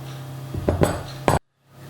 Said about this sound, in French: il suffit de bien mélanger à la spatule, à la cuillère en bois